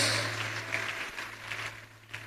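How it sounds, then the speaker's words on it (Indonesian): A church congregation claps together, a dense patter of applause that fades slightly over a low steady hum. "Yang percaya tepuk tangan yang paling meriah buat Yesus."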